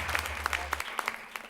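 Hall audience clapping at a Hindi poetry gathering as the poet Vineet Chauhan is welcomed, a brief dense patter of hands with sharper individual claps standing out, a low hum underneath at the start.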